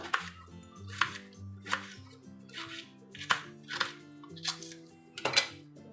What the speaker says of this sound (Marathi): आता मी अशीच बाकीची भेंडीसुद्धा चिरून घेते